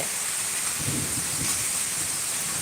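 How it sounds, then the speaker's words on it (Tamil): Heavy rain pours steadily in Tiruvallur, a dense even hiss with a faint low rumble of thunder underneath, continuous and close throughout. "திருவள்ளூர்ல செம்ம மழை பின்னி எடுத்துக்கிட்டு இருக்கு"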